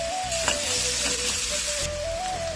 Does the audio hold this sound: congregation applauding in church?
no